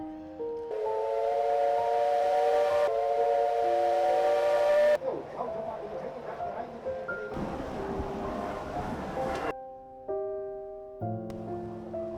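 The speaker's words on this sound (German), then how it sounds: "Es kommt ein lautes Signal mit einer Dampfpfeife." Steam whistle on a lake excursion boat in Germany's Mecklenburg Lake District, sounding a loud, sustained signal blast that cuts off and resumes in stretches, with open-air wind and water noise around it.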